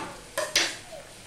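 Chili, turmeric, cumin and coriander powders with salt dropped into a hot pan for a Bengali bata fish curry, giving two quick soft sizzling bursts close by, then a brief fading hiss.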